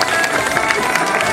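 Spectators at a knights' show clap steadily in a brief burst of crowd applause, with a voice and general hubbub mixed in.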